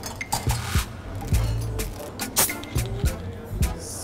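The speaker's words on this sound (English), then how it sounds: "The ice cube." An ice cube drops into a brandy balloon glass holding orange reduction, lime juice, Campari and smoky whisky, giving sharp glassy clinks and knocks over a busy background of kitchen and bar noise.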